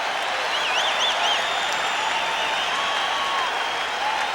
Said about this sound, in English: Listen to the crowd as the Celtics have come back,